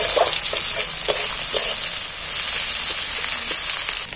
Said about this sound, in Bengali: পেঁয়াজটা একটু তেলের মধ্যে ভালো করে ভেজে নেব।